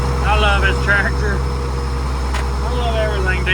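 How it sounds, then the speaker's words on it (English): A diesel tractor engine runs steadily at close range, a constant low rumble lasting throughout, with faint voices and scattered higher-pitched noises over it. "Tractor."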